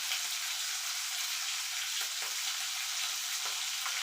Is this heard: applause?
no